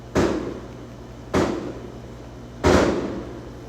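Fireworks go off in three loud, sharp bangs spaced about a second and a quarter apart, each trailing off in a rumbling decay, heard alone with no talk.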